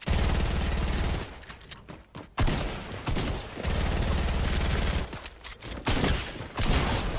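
Bursts of sniper fire crackle in a Fortnite battle, loud, dense volleys around two long stretches separated by a brief gap near the middle, with no talking.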